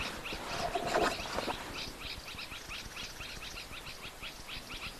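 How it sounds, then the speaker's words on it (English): Dark-capped bulbuls call in agitated alarm from the African bush, a busy chatter of repeated chirps at middle distance, loudest near the start and continuing at a steady level without voices. "Mostly dark-capped bulls that are making the most of the noise in there."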